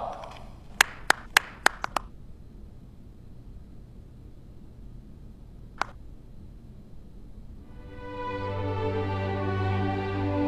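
A handful of sharp, scattered hand claps ring out in a quiet meeting room, then a single late clap follows after a pause, and a low droning hum later rises beneath the silence.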